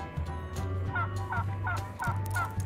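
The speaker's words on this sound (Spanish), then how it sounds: "¡Compra un pavo!" A toy's turkey-gobble sound effect repeats four times in quick, evenly spaced warbling bursts over a low steady hum.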